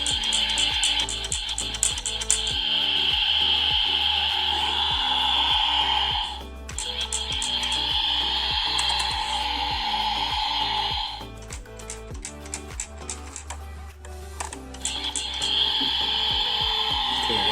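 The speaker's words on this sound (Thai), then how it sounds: "มันจะมีเสียงนะ เสียงเหมือนน้ำอัดลมประมาณนี้นะครับ" Electronic fizzing hiss from a toy, steady and fairly loud, with rapid ticking clicks underneath, playing in bursts separated by short pauses.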